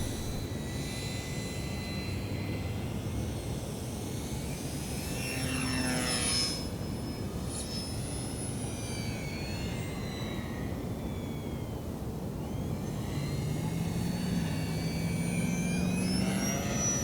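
An E-Flite Eratix 3D flat foamy RC airplane flies overhead, its electric motor and propeller whining steadily and shifting pitch as it passes near and away, with no talk.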